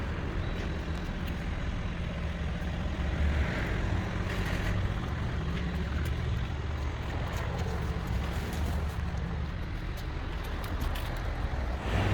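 The restored car called Project Kurt drives along with a steady low engine rumble and road noise throughout, at an even moderate level with a few faint knocks and rattles and no talk.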